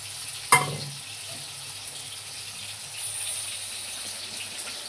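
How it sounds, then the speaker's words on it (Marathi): Tomatoes roast in a pan with a soft, steady sizzle, briefly broken by a sharp clatter early on, then a quiet continuous frying hiss. "बघा आता आपण चांगलं टमाटरला भाजून घेऊ."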